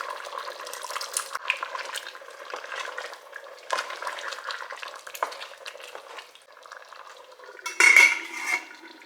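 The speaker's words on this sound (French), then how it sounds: "je viens ajouter mes pois chiches." Chickpeas going into a simmering curry in a borrowed casserole pot, with steady sizzling and stirring clatter and a sharper metallic scrape near the end.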